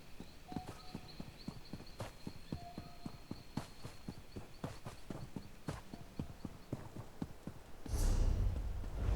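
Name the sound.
horse hooves walking in video game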